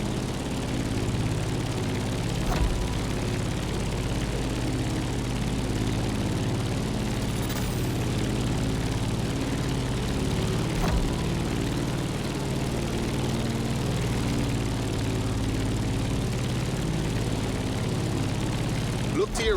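Aircraft engine drone steadily climbing over Hawaii in the racing game The Crew Motorfest, a continuous low propeller hum at constant loudness throughout, with talk heard over it.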